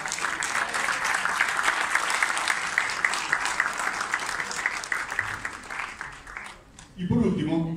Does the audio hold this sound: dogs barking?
no